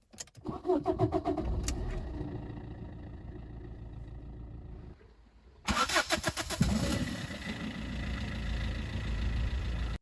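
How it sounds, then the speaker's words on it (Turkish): A Fiat Fiorino 1.3 Multijet diesel engine cranks and fires up, settles into a steady idle, then after a brief dip rumbles on loudly, heard close by. "Şimdi aracı çalıştırıp içeriden ve dışarıdan bir ses alacağım."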